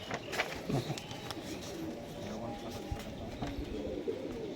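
Racing pigeons, match-flying birds up for sale, coo repeatedly in a loft with a noisy, dense background of many birds and faint voices throughout.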